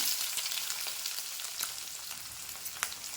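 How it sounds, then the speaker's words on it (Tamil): Curry leaves, onion, green chili and garlic sautéing together in a pan give off a continuous, even hiss of frying with faint stirring ticks, moderately quiet and close, without any talking. "எல்லாத்தையும் ஒன்றா போட்டு வதக்குவோம்"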